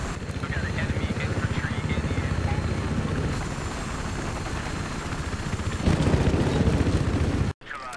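Helicopter rotor and engine drone in Battlefield 3 on the Alborz Mountain map, a steady loud chop running throughout with someone talking over it and a brief cut near the end.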